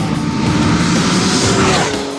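A 2012 Porsche 911 Carrera S with the 3.8-liter engine and sport exhaust, valves open, roars loud and close in a continuous high-revving scream that shifts pitch as it passes, with no talking.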